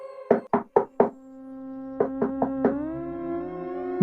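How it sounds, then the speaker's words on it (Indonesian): Knocking on a bedroom door in a horror story, two sharp bursts of four raps each with a short pause between, loud and close, ringing tonally like a resonant door or wood block, with no voices. "Hingga selang beberapa detik kemudian, pintu kamarnya pun diketuk."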